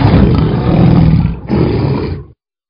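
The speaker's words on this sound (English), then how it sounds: "They all roared and growled in African lion dialect" A pride of African lions in an animated telling, roaring and growling together in one loud, sustained blast that briefly dips, surges again and then cuts off abruptly.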